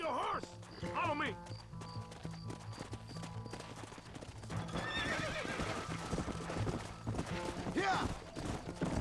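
Horses in the Red Dead Redemption video game neigh and whinny while hooves clip-clop at a gallop, rising amid busy game sounds and shouted talk throughout.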